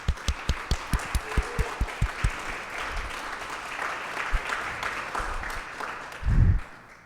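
An audience at an artist talk in a gallery claps in a steady run of sharp, distinct handclaps that thin out and fade, then a few scattered claps and a low thump follow.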